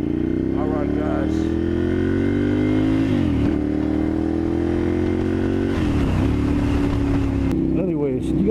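A motorcycle engine on the move, revving up steadily through gears with audible drops at each shift, loud and close from the rider's position, with a voice talking over it.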